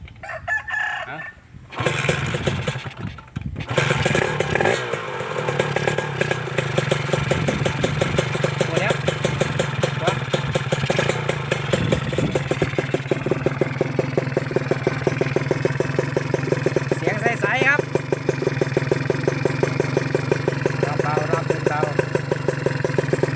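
A newly bought KR motorcycle engine runs steadily after a brief start-up, holding a continuous, close, loud pulsing idle with slight throttle changes for about twenty seconds.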